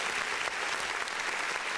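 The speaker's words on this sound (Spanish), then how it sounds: "a quien le damos la bienvenida y un fuerte aplauso" A studio audience gives guest David Rojas a welcoming round of applause, with dense, steady clapping that stays loud and even from start to finish.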